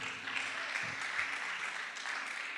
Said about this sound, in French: Nous acclamons pour eux.